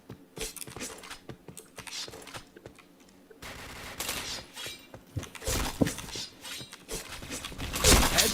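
Bursts of automatic gunfire in the shooter game Point Blank come in clusters, quiet at first then growing dense and loud, with rattling metallic mechanism clicks between shots.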